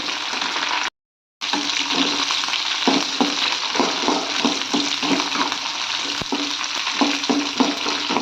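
Onions and green chillies fry in hot oil in a pan, a dense, steady sizzle with faint rhythmic stirring, broken by one brief moment of silence near the start.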